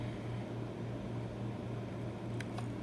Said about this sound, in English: if you hear noises in the background, that's my air conditioner.